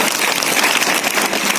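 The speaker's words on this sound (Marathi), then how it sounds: "पुन्हा एकदा आपण भोये सरांसाठी खूप जोरदार टाळ्या वाजवायच्या आहेत" Audience applause for a teacher at a taluka-level kho-kho competition, a loud, dense burst of clapping sustained evenly across the short moment.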